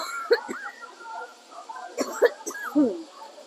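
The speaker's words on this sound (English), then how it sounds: "Sorry for the cough." A person outdoors in Peace Memorial Park, Hiroshima, with a cold, gives several short, rough coughs in quick bursts spread over a few seconds, close to the microphone.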